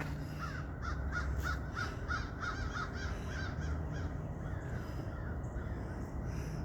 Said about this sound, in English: There was crows for miles. Just flew over top of me.